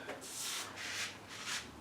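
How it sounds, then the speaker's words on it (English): The top edges of a wooden coffee table are sanded by hand in three even strokes, each a close, soft rasping rub with brief dips between. "sand the top, and it squares off those edges real nice"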